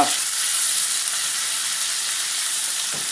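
Onion, garlic and épices frying in a pot for Haitian mayi moulen ak pwa, a loud, even, close hiss of sizzling oil that holds steady throughout, with a faint knock near the end.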